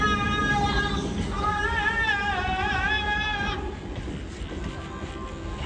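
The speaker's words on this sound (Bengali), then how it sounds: "আর পাশ দিয়ে একটা ট্রেনও ঢুকে গেছে," A train rolls past nearby, its steady rumble under a rising and falling horn-like tone that fades partway through.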